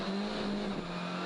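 A WRC rally car on a Swedish stage pulls away after overshooting a junction, engine droning steady and close with a sustained tonal whine throughout the short stretch.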